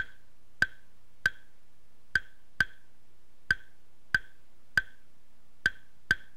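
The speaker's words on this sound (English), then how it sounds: "So the first pattern we're going to do is called Sone Clave" Sharp wooden clave clicks ring out alone, close and bright, in a sparse repeating son clave pattern of uneven spacing over quiet background.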